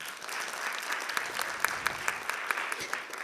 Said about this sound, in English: show our appreciation with resounding applause